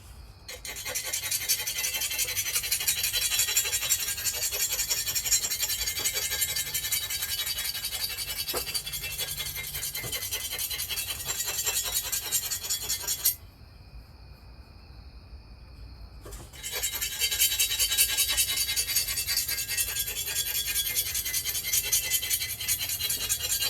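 Metal file rasping burrs off a top-end engine part of a Kawasaki KE100 motorcycle, a steady close scraping stroke that runs on with a brief pause, then resumes.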